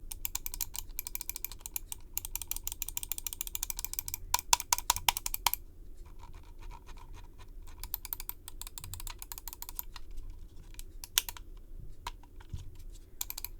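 Rapid mechanical clicking in quick bursts with brief pauses, a DAREU A950 Wing ultralight 35 g gaming mouse being clicked and scrolled close up, no voices.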